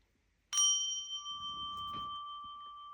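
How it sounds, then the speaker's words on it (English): A single struck bell, probably a small metal ritual or singing bell, rings out with one sharp clear strike and then a long sustained tone that slowly fades, heard close in a quiet room. "I wanted to ring the bell again."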